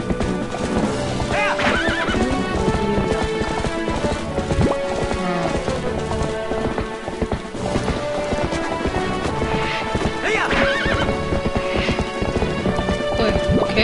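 In The Legend of Zelda: Twilight Princess, horses gallop with thick, continuous hoofbeats and repeated whinnies over a dense game soundtrack, with a voice faintly present underneath.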